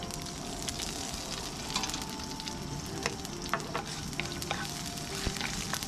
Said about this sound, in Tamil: இப்போ பார்த்தீங்கன்னா அடுத்து கருவேப்பிலை போட்டுடுறேன். அதுக்கப்புறம் கட் பண்ணி வச்சுருக்க பச்சை மிளகாவை போட்டுடுறேன்.